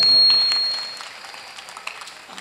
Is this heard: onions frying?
no